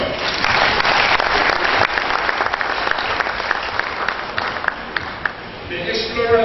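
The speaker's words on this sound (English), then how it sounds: "Could you clap for her?" An audience at an inaugural memorial lecture breaks into sustained applause, a dense, steady wash of clapping that fills the room before tapering near the end.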